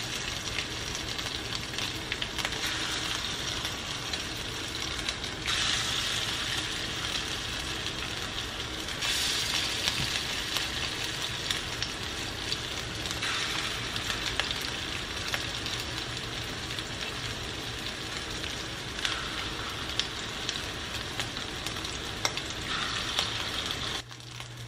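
Food browns in a frying pan with a steady, fairly quiet sizzle and crackle that runs throughout, broken by a few brief louder hisses and light clinks.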